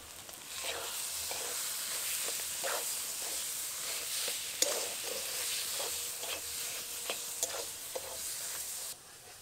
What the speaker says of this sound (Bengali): সমস্ত মশলাগুলোকে ভালো করে মিশিয়ে নেব